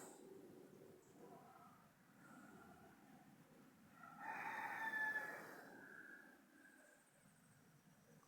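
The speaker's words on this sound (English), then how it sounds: "You hear the rooster." A rooster crows once, faint and distant, on a quiet morning at a bird-feeding spot, rising briefly from the low background hush.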